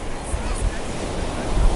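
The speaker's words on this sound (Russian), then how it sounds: "Сильный прибой. Волны, на которых так классно качаться." Strong surf breaks on Miami Beach, a close, rough, rumbling wash of waves with wind buffeting the microphone throughout.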